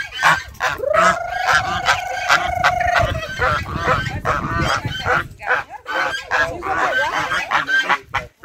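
Chickens call loudly nearby, starting with one long drawn-out squawk and followed by a run of quick clucks and cackles.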